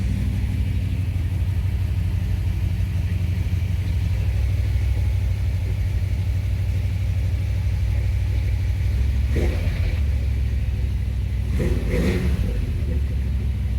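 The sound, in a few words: 1968 Ford Torino GT 427 Side Oiler engine running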